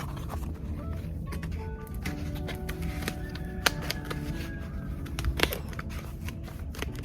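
Scissors snip down the side of a plastic plant container, giving quiet, steady crisp cutting and crunching with a few sharper clicks, close by and with no one talking.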